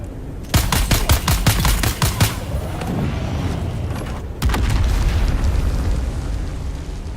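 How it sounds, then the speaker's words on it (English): Dune Awakening combat: a rapid burst of gunfire and blasts rattles out, then after a short lull a heavy grenade explosion booms and leaves a long rumbling tail. "Where's that grenade coming from?"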